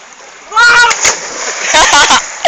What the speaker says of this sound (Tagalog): Yan ang dive ng tuko. Dive na siya.